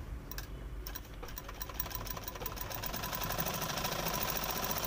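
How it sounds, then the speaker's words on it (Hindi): A sewing machine runs steadily for several seconds, stitching hook and buttonhole strips onto a Prince cut blouse. The whirring, rapidly ticking mechanical hum is close and continuous, with no voices. "ऊपर रख के ऊपर से सिलाई लगा लेते हैं"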